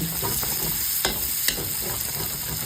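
Chicken afritada sautéing in a pan with onion and tomato paste, a steady close sizzle broken by a few sharp stirring scrapes against the pan.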